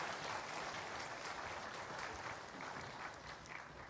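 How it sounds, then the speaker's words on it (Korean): A church congregation at an Easter service applauds together in a dense, even wash of clapping that stays steady and fairly distant throughout. "우리 다시 한번 하나님께 영광의 박수를 올려드리겠습니다"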